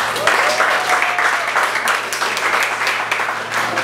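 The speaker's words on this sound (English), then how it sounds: "Give them a round of applause." Congregation giving a wedding couple a round of applause, lively, fairly close clapping that swells and continues steadily over a low hum, with a voice faintly heard over it.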